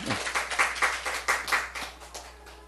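A church congregation at a Korean morning worship service claps in a rhythmic, fairly steady beat, about a dozen distinct pulses that fade toward the end, heard from a moderate distance.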